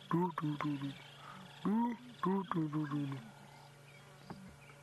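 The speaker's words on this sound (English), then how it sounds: "I'm sure you can hear the deep booming ground hornbills" Deep, low booming calls from southern ground hornbills repeat in short bursts at sunrise on safari, fairly close, with insect buzz and other wildlife faintly in the background.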